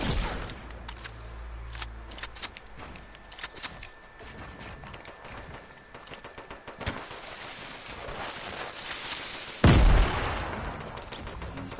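Rocket launcher fire in the battle royale game Fortnite sits under scattered clatter and crackling gunfire, then one loud, heavy blast booms out near the end.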